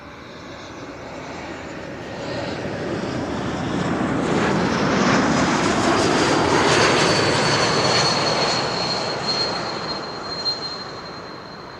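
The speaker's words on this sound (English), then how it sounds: "Air Baltic up next. Bombardier C-Series 300 arriving from Riga" An Air Baltic Bombardier C-Series 300 airliner arriving from Riga at Amsterdam Schiphol roars past on approach, its jet noise swelling to a loud peak mid-pass with a rising whine, then fading away.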